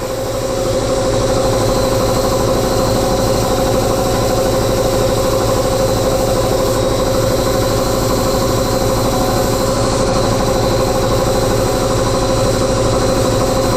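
Sandblasting media hitting a badly corroded part inside a blast cabinet with a dust collector running: a loud, steady hissing roar with a constant droning hum that holds unbroken throughout, with no talking.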